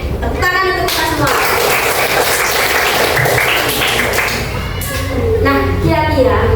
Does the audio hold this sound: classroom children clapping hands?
yes